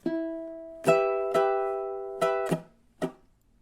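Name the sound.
ukulele minor blues riff, measure 8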